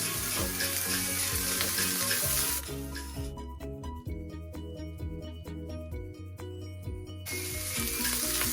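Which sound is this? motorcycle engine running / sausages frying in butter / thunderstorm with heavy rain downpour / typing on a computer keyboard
sausages frying in butter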